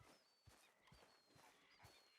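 A horse in Red Dead Redemption 2 plods along in even, regular hoof clops, roughly two per second, quiet and close, with a faint tonal game ambience behind and a sharp knock at the very end.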